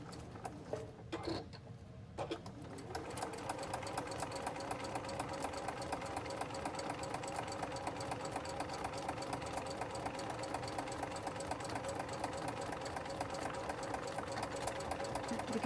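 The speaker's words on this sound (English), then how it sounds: "let's sew right on that line" A sewing machine stitching along a drawn line on a binder pouch seam, a steady fast mechanical whir that runs continuously after a few short starts, close and moderately quiet.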